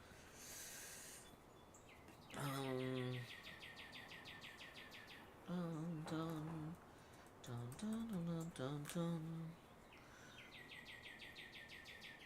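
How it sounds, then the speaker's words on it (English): Birds singing outdoors: several bursts of clear, rapidly repeated chirping notes, some near and loud and others fainter, with short pauses between phrases over a low background hiss. "Bird song."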